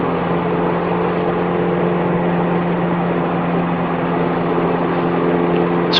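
Small plane engine in Microsoft Flight Simulator 2020, a steady, droning hum with constant low tones and no voices, holding an even level throughout.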